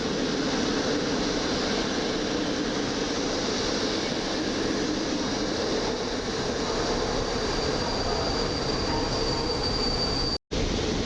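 A passenger train hauled by an EP09 electric locomotive passes Warszawa Zachodnia station, rumbling steadily and loudly with broad rail noise and a faint high squeal, then cuts off abruptly near the end.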